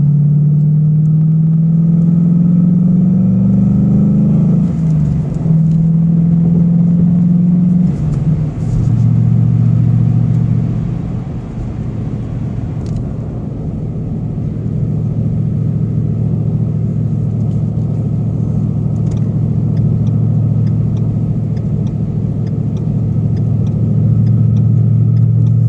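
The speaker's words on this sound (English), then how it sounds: "I'm cruising in 6th gear, 65 miles an hour." A 2015 Ford Mustang GT with a Magnaflow exhaust and FRPP X-pipe cruising in sixth gear at highway speed, giving a steady, loud low drone with slight shifts in pitch and no talking.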